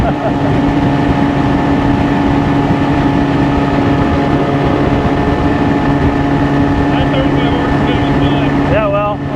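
A 1990 Johnson 20hp outboard motor runs on a boat during a propeller pitch test, a loud steady drone with constant pitch throughout, with a brief voice near the end.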